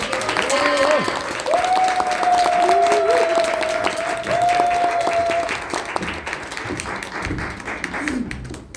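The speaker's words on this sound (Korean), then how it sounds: "다이아몬드 문한영 리더님을 큰 박수로 모시겠습니다." An audience claps loudly to welcome a speaker onto the stage at a business gathering, sustained crowd applause with a held musical tone ringing over the first half before the clapping thins toward the end.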